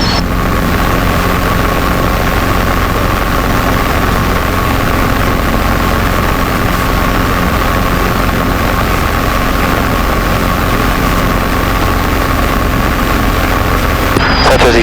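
Robinson R22 helicopter in flight on a training circuit, heard from inside the cabin as a loud, steady rotor and engine drone throughout.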